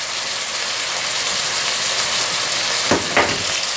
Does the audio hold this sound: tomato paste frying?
yes